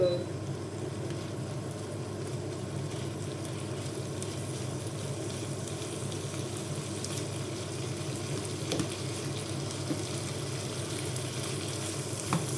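Chorizo and vegetables sizzling steadily in a pan for Mexican-style rice, a constant close crackle and hiss with occasional stirring scrapes.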